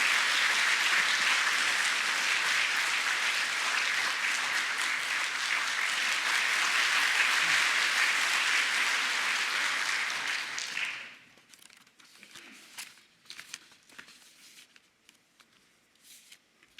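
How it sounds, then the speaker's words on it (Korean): Congregation in a church service applauding to welcome a guest preacher: loud, dense, sustained clapping for about eleven seconds that stops abruptly, followed by a few scattered claps and soft shuffling. "앞으로 나오실 때 큰 박수로 환영해 주시면 감사하겠습니다."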